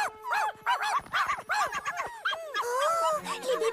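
Cartoon puppies yip, whimper and bark in rapid high-pitched bursts, several small voices overlapping close up with little pause, a thin melodic backing underneath near the end.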